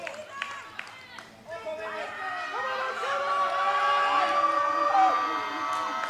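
A home crowd cheering at a world open equipped powerlifting championship, rising from scattered claps into sustained shouts and whistles, with a commentator talking over the noise.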